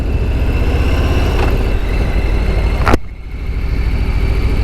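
A 2021 Harley-Davidson Softail Standard ridden at very low speed, its big engine giving a loud, steady close-up rumble, briefly dropping and shifting in tone near the end.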